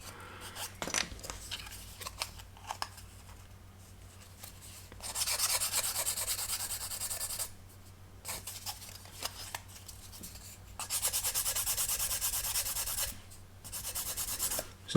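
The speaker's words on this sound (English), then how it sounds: "You always have to be careful not to overdo it, because you can create gaps by sanding." A sanding stick rubs against a plastic part from a 1/48 scale Junkers F13 model kit, with bursts of close, dry rasping strokes lasting a few seconds each, separated by quiet pauses and light handling clicks.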